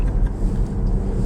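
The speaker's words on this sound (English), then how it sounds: "I really wanted to do a good 0 to 60 launch" A tuned Jeep Grand Cherokee EcoDiesel roars in a hard launch, a loud, dense and close diesel engine rumble heard in one short burst.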